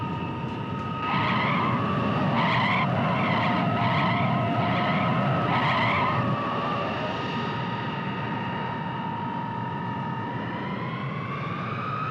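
An aircraft brakes hard on a runway with tires skidding, a loud sustained screech with pulsing squeals early on that settles into a long whining tone as it slows, no talk.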